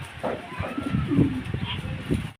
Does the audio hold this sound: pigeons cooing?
yes